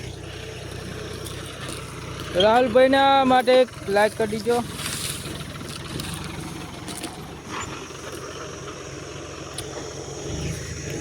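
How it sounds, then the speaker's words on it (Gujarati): A tractor engine rumbles steadily as it approaches on a farm, a continuous low mechanical drone running throughout while people talk over it and a loud voice briefly rises above it. "અહીંયા ટ્રેક્ટરમાં આવી રહ્યા છે"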